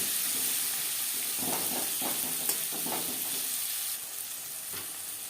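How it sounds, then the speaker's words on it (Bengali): Four medium chopped onions fry in a pan for a Bengali egg and cauliflower curry, a steady close hiss and sizzle with soft stirring scrapes partway through. "এখানে আমি চারটে মিডিয়াম সাইজের পেঁয়াজ কুচি করে অ্যাড করলাম"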